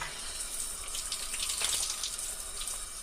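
A tap faucet running steadily while something is rinsed, giving a close, continuous hissing splash of water with no one talking.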